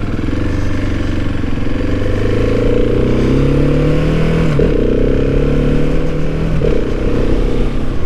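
A Husqvarna 701 Supermoto single-cylinder motorcycle under way, its chuggy, low engine note loud and close throughout, pitch rising and falling through gear changes with a brief dip mid-ride.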